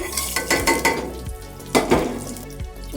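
Cashews frying in ghee in a home kitchen pan, a soft sizzle under scraping and stirring of a utensil against the metal, with a few clinks.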